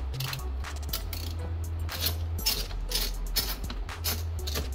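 A 10 mm socket wrench loosens a bolt while a factory radio is removed from a Lexus GS300/GS430 dash, giving rapid metallic ratcheting clicks and small metal clinks over a steady low hum, fairly close and continuous.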